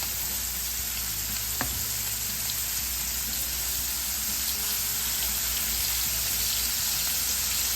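Cube steaks and hamburger steaks sizzle and fry steadily in a skillet, a continuous close hiss with one brief sharp pop early on and no talking.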